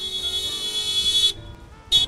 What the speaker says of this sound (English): you can definitely hear the honking from up here.